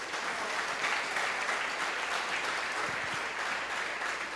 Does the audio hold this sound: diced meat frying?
no